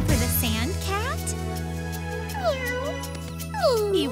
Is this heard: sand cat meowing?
yes